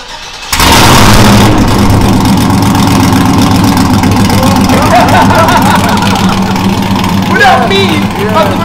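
A 1971 Chevy Malibu with a swapped 5.3 LS V8 cold-starts in Jamaica. It cranks briefly, catches into a loud, close rumble and settles into a steady idle while voices talk over it.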